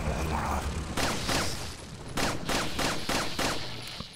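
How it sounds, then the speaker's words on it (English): Gunfire in Resident Evil 4 HD, several loud, sharp shots fired in irregular succession with echoing tails over a steady background ambience. "I didn't have to shoot all the bullets"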